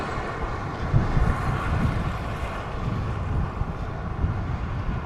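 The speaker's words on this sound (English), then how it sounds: "It'd be beautiful today if it wasn't so windy." Strong wind buffets the microphone beside a river, a continuous low roaring rumble with gusty swells and no other clear sounds.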